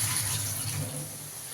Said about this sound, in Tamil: தண்ணியை அமைச்சு தண்ணியை ஊற்றி சூடு இறங்கிக்கிட்டோம்.